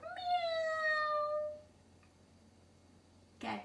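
A child imitates a cat with one long, bright, falling meow lasting over a second, close to the microphone, followed by quiet and a brief noise at the end.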